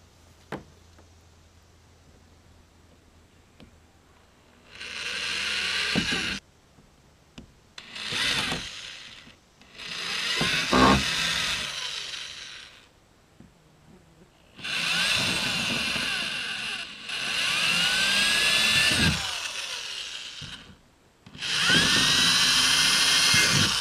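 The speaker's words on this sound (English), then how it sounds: "we are going to drill little relief holes right on the edges of the crack so the cracks don't expand" Small bursts of drilling into a cracked plastic kayak hull, boring relief holes at the crack edges; six separate whining bursts of a few seconds each, close and fairly loud, with quiet gaps between and no talk.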